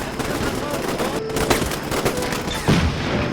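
Dense, loud gunfire from the Combat Mission Shock Force multiplayer assault on an airport hangar, with overlapping bursts and sharp cracks filling the whole stretch, a few heavier reports near the middle and end, and a muffled voice underneath.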